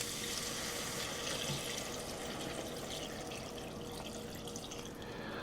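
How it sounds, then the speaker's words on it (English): About two cups of water pour steadily into a pot of green beans on the stove, a continuous, fairly loud splashing rush with no voices. "I'm gonna try to add about 2 cups of water."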